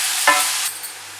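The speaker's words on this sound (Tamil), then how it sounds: "மஞ்சள், உப்பு எல்லாத்தையும் நல்லா கலந்துக்கணும்." Turmeric and salt being stirred into a mango rice mixture in a pan: a short broadband scrape of stirring over a steady soft sizzle, with no voices.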